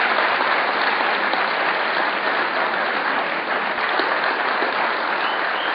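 Audience applause for child actors at the end of a stage play, steady dense clapping from a full house, continuous and fairly loud throughout with no voices.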